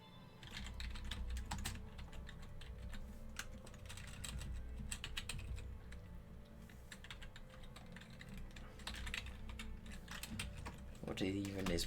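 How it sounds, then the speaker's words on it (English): Rapid clicking on a computer keyboard during programming, with continuous uneven bursts of keystrokes close by and a few heavier key presses. "what even is my typing today?"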